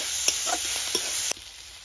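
Vegetables fry in oil in a kadai, with a soft sizzle beneath several scraping, clinking strokes of a spatula; the stirring stops abruptly near the end.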